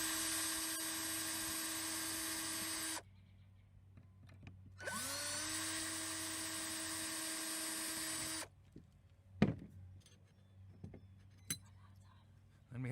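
A small drill boring two little holes for guitar tuning machine screws, two loud whining bursts of a few seconds each with spin-up and cutoff, followed by faint clicks and taps.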